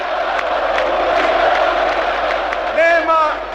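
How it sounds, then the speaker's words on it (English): A large crowd roars and cheers at a Milosevic political rally in Serbia, a dense and sustained wash of voices with a few louder shouts rising near the end. "The crowd had waited all day for Milosevic to tell them that Kosovo would be theirs again"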